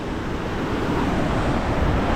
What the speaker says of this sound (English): I don't think there's many waterfalls in the world where me and Martha could stand here just looking at this on our own